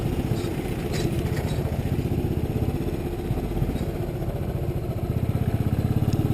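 A 2019 Royal Enfield Classic 500 base model riding over rough terrain, its single-cylinder engine producing a steady, close, rapid thumping beat with rattles and clatter layered over the drone throughout.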